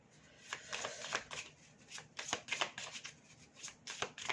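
Playing cards shuffled by hand at a table, a run of soft riffling bursts and flicks repeating irregularly, fairly quiet and close, with no talk over them.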